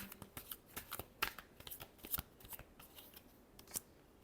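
Tarot cards are shuffled by hand in quick, crisp riffles and flicks, close and moderately quiet, with a few sharper slaps among the rustling and no talk.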